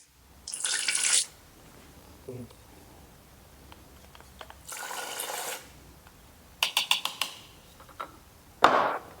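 AdBlue additive is poured into a litre of liquid in short splashing bursts, close by, separated by quiet gaps and a few light clinks of a container.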